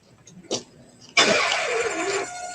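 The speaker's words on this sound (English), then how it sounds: "The starter just not engaging." A car starter whirs and grinds steadily for about a second without the engine catching, following a short clunk or cough just before.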